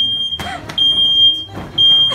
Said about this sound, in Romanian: Ok, a pornit alarma de incendiu.